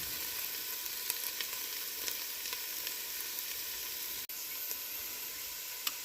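Potatoes fry and brown in a hot pan with a steady, close sizzling hiss that runs unbroken throughout, marked by a few faint clicks and no talking.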